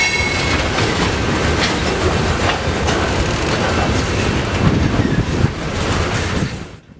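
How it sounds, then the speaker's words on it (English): Freight train rolling through the Galesburg rail yard, a loud, steady rumble of heavy cars with rhythmic wheel clatter and faint squeal, close by, easing off at the very end. "Eventually, the train came to a stop."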